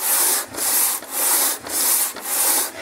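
Hand sanding of an engine cylinder head on 140-grit sandpaper laid flat, a loud, steady gritty rubbing in four long strokes with brief pauses between them, close up and with no voices.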